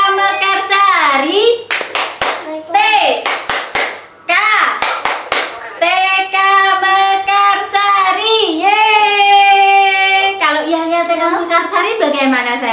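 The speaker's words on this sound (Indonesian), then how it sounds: "Oke, yuk tepuk TK Mekarsari." Kindergarten children clap in a rhythmic group chant, sharp bursts of hand claps in quick patterned clusters interleaved with their loud sung and shouted voices throughout.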